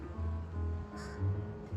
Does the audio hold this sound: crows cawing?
yes